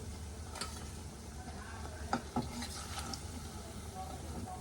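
Potato tikkis frying lightly in oil, a soft, faint steady sizzle with a couple of small clinks and pops, heard up close in a quiet kitchen.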